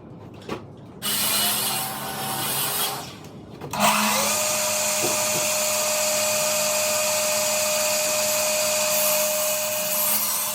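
A power saw cuts a 2x8 board to length for a structural window header, spinning up with a sudden burst after a few short knocks and whining steadily and close until the end.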